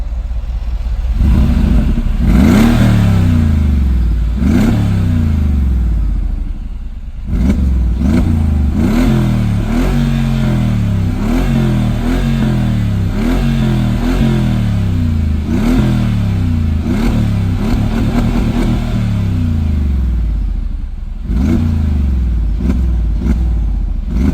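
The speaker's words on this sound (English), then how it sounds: "That low, grumbly, deep V8 sound" Mercedes G63 AMG V8 engine revving hard and accelerating, loud and close, with repeated deep rising sweeps broken by gear-shift dips and a brief drop in the middle before pulling again, turbo whine faintly on top, no talk.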